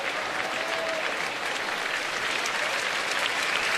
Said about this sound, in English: the fans applauding Chris Tillman for getting into the 5th inning without allowing a hit